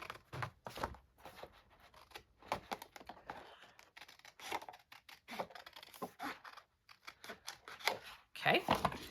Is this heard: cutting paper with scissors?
yes